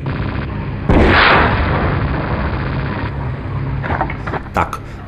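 Bazooka round fired at a Tiger tank in the video game Battlefield 1942, a sudden loud boom with a burst of rumbling noise that slowly decays over steady background game noise, followed by a few smaller pops near the end.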